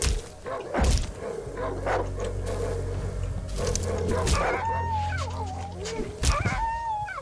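Dogs in the horror game Darkwood bark, yip and whimper close by in rapid bursts, with growls and a howling whine near the end, mixed with game noise while someone talks over them.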